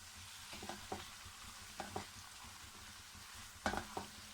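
Chicken frying with onions in a pan on a low flame, a quiet, steady sizzle punctuated by several close stirring scrapes and clinks of a utensil.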